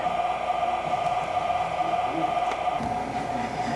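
An MTH O scale model train runs on a ceiling-mounted layout in a garage, giving a continuous rolling rumble with a steady mechanical hum. The sound stays at a constant moderate level throughout.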